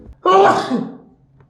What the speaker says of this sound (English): I told you I was gonna sneeze.